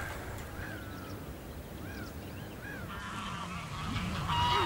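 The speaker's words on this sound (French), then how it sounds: "Ah, on entend les canards." Ducks quack at a bird park in France. A few faint, scattered honking calls rise over steady outdoor background noise, which grows slightly louder toward the end.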